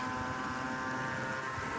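A Reely 1/4-scale RC dirtbike motor runs with a steady, high-pitched electric whine and buzz, constant and close, with no talk over it.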